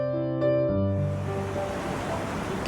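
Takakkaw Falls in Yoho National Park, a horsetail-shaped waterfall cascading over a cliff, heard as a broad steady roar of rushing water that swells and continues without pause, with no voices.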